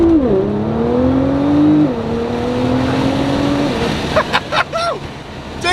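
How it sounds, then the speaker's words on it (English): A modified 2017 Nissan GT-R accelerates hard through second and third gear, engine tone rising and dropping with each shift, then tires chirp and squeal in short bursts near the end, loud and close from inside the car. "I can't believe I'm spinning in like second and third gear doing 40."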